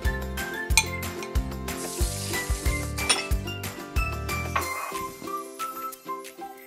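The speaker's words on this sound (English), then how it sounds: "I'm stirring it now and the liner's not spinning everywhere" A spoon scrapes and clinks in a rhythmic, repeated pattern against a metal Instant Pot liner while stirring thick dairy-free coconut rice pudding, with a soft bubbling beneath, close and without talk.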